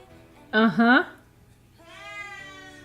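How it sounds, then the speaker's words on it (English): A cat gives two close meows in quick succession, followed by a softer, longer meow after a short pause. "Oh my god, cat woke up."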